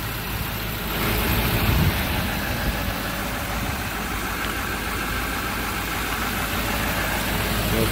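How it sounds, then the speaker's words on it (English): Duramax diesel engine of a 2011 GMC Savana 3500 van idling steadily, a smooth, continuous low rumble close by that holds even throughout with no speech. "But it still runs very smoothly. Duramax diesel."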